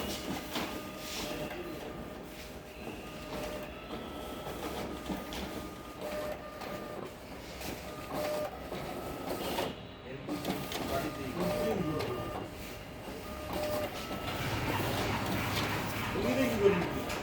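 Photocopier machine running test copies, a steady mechanical hum with rhythmic feed and scanning cycles that continues throughout, while people talk intermittently in the background.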